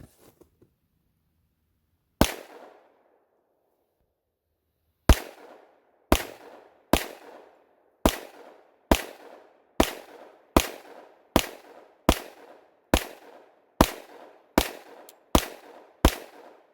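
A Glock 20 Gen5 pistol fires about fifteen sharp, loud shots outdoors: one lone shot, a pause, then a fairly steady string of evenly spaced rounds, each with a short fading echo.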